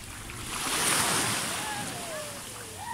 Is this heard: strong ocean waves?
yes